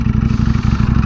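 Ducati-style V4R sport motorcycle engine revving hard at very high revs, a loud, close, continuous rasping roar with rapid firing pulses and no talking.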